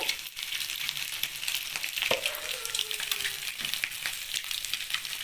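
Spices sizzling in hot oil in a pan with a pinch of turmeric added, a steady bright crackling fry with a brief stir or clink partway through.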